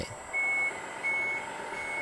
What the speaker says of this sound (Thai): เวลาจะถอยหลังนะครับ จะมีติดเบรกอยู่หนึ่งครั้งนะครับ ถึงจะถอยได้